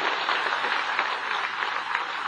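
A large audience at a farmers' gathering applauds steadily, a dense, continuous clapping that stays loud and even throughout, with no voices standing out.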